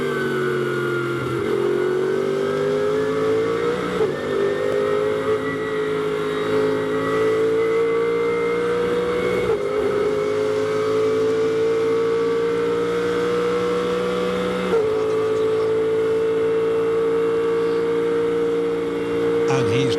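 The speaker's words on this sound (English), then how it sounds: "just nice to listen to the engine note" Race car engine heard from onboard the 84 car during the Spa 24 Hours race at night, a loud steady drone with slowly rising pitch and brief dips as the gears change.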